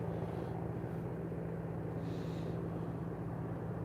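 Steady low engine drone of a small wheeled aircraft taxiing at Liverpool John Lennon Airport, continuous and moderately distant, with a faint hiss rising briefly midway and no voices.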